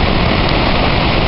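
The Genesee River rushes over the Court Street Dam in Rochester after heavy rain, a loud, steady, broadband roar of churning water that fills the whole moment without pause.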